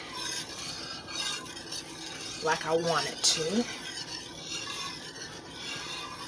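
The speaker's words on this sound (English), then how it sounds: "you want to keep whisking until it starts boiling" Whisking German chocolate frosting in a pot on the stove: a soft, steady scraping and stirring with a faint sizzle, under intermittent talk.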